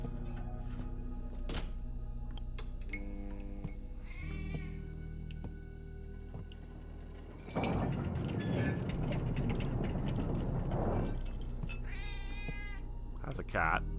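A cat in the video game The Operator meows several times, short and fairly close, alongside background game music and someone talking.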